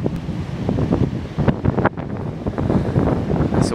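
Blustery coastal wind buffets the microphone on the clifftops at Hartland Quay above Atlantic rollers, a loud, gusty rumble that rises and falls throughout.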